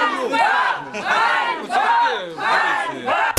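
Crowd of people shouting and yelling at court bailiffs during a family's eviction from a flat on Ruska Street in Chernivtsi, loud overlapping voices rising in repeated bursts.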